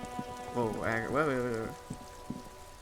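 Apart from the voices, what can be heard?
rain falling in Disco Elysium video game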